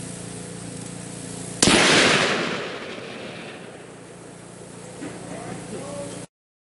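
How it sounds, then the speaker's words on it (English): A single loud gunshot strikes a cob wall, a sharp close crack followed by a long fading rumble of debris and echo, with a low hum underneath. "we could shoot this thing all day before it chunks apart all the way"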